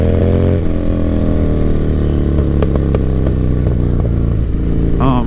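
A 1985 Harley-Davidson FXR motorcycle engine cruising along, a loud, steady, deep rumble with a continuous low droning tone and brief throttle shifts and clatter, close by with no talking.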